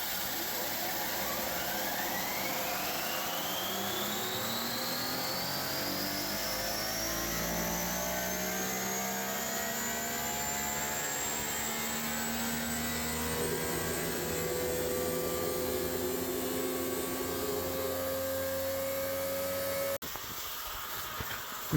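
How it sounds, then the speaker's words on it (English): Mine vent fan blowing air into a vent bag with a compressor running underground, a loud steady roar with rising and falling tonal whine that cuts off abruptly near the end. "I got the compressor going, so I turn this on and that vent bag"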